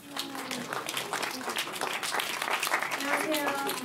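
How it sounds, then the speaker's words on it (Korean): An audience claps at a cinema stage greeting after a film screening, steady applause building slightly under and around speech from people on stage. "네, 박수 받으세요."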